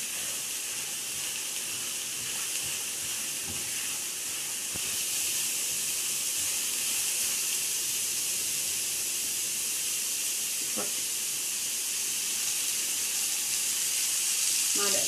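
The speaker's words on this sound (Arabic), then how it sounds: "نشوح البصله بس كده في الاول." Chopped onion sautés in a pan with a steady, close sizzle and hiss that runs unbroken, with a couple of faint clicks underneath.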